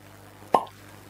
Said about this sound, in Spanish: va saliendo perfectamente el corcho totalmente recto